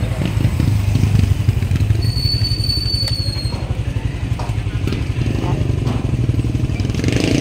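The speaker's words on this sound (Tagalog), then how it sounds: "That's the motor of Katots, guys." A motorcycle engine idling nearby outdoors, a loud, steady low throb with a rapid pulsing beat, holding even throughout with slight rises in intensity.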